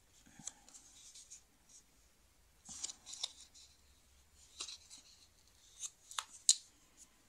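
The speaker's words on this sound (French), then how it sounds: "On coupe comme ceci et on marque les plis" Card being cut and folds scored at close range, soft scratchy scraping strokes and faint snips in short irregular bursts separated by quiet pauses, with no talking.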